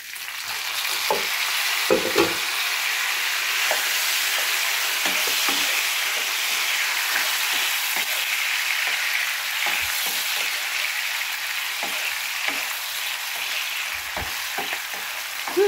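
Tomato being stir-fried with fresh garlic in a pan, a continuous loud sizzle with scattered clicks and scrapes of a utensil stirring, close and without talk.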